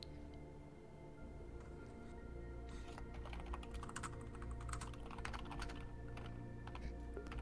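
Steady typing on a computer keyboard in a quiet room, with dense, even clicking keystrokes running throughout at a moderate, close distance and no talking.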